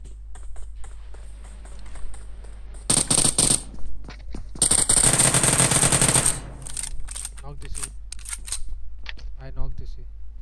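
Rapid automatic gunfire and single shots ring out in PUBG Mobile squad play, bursts loud and close in several clusters, with players talking over the action.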